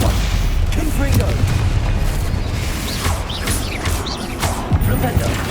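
Fiery spell blasts from Hogwarts Legacy combat land as booming explosions amid crashes and rumbling, with several sharp bursts scattered over a dense, continuous battle din; a voice speaks faintly underneath.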